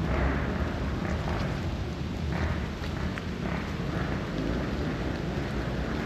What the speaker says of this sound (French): Mais il pleut, il pleut, il pleut.